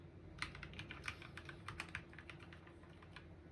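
Keys on a computer keyboard bought at a flea market in Kocaeli pressed one after another while being tested, giving irregular close clicks and taps over a faint steady hum.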